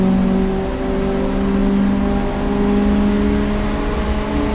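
A race car on the front straight at Ridge Motorsports Park during a Lemons endurance race: a steady, loud engine whir with a sustained tone, constant and close throughout, no talking.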